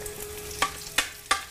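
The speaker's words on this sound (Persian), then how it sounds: "خوب که داغ شد این کوکو رو میریزیم توی اینجا." Kuku mixture of Persian New Year's Eve fare hitting hot oil in a pot gives three short, sharp sizzling spurts spaced under a second apart over a quiet kitchen background.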